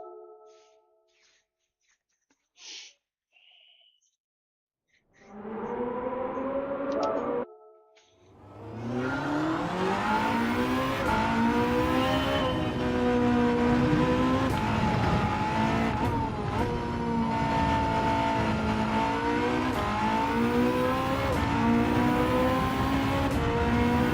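A Porsche 963 race car engine in Gran Turismo 7 fires up after a few quiet menu clicks, then roars loudly and continuously, its pitch rising and falling through gear changes on track.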